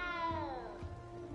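Cat meow in Hogwarts Legacy, a single drawn-out, descending meow, soft and close over faint background game ambience.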